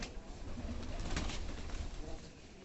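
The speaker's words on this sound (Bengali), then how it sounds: "কবুতরগুলো" Pigeons on a farm with mango trees nearby, cooing low and steady over a broad outdoor hiss, with a brief brighter call near the middle.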